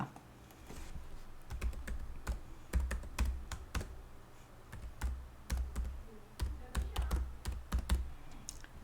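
Keystrokes clatter on a computer keyboard in irregular bursts as an email address and password are typed into a university library login, with no voice over the close, moderately loud taps.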